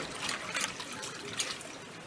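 Mutton pieces rinsed lightly in water in a kitchen, giving a steady close trickle and splash of running water with faint sloshing, no talk.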